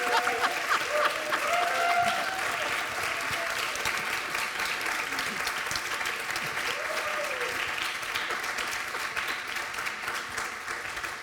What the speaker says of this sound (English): At least a round of applause,